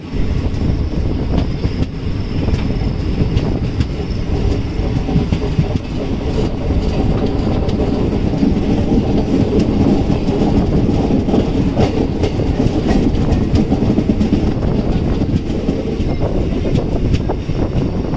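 Steady rumble and rattle inside a moving train on a journey from Jaipur toward Nagaland, the wheels clattering loudly and continuously throughout with no talk over it.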